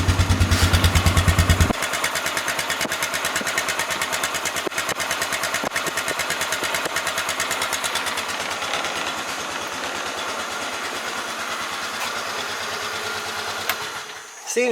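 A 2003 Polaris Ranger 500 6x6 Series 11 utility vehicle engine running steadily near the microphone, a fast even putter with a buzzy high-pitched edge, a brief heavier burst at the start and a small blip near the end.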